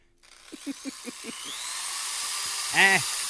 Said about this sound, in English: Just a Dremel tool.